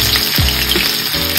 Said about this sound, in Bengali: এখানে হচ্ছে প্রথমে আলুগুলো ভেজে নিচ্ছি